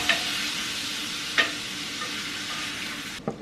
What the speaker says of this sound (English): I'm just gonna give that a little stir